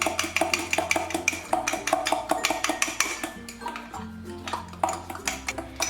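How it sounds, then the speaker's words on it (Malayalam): A spoon stirs condensed milk and butter together in a mug, with quick, close clinks and taps against the mug over steady background music. "ഇതെല്ലാം കൂട്ടിയിട്ട് നല്ലതുപോലെ ഒന്ന് മിക്സ് ചെയ്യണം."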